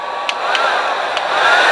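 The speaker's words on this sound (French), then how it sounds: "Vous prenez un décapeur thermique ou un sèche-cheveux si votre femme vous autorise à l'emprunter" A heat gun or hair dryer blows hot air in a loud, steady, close whoosh that holds throughout with a faint whine, used to heat a threaded joint on a friction-drive moped.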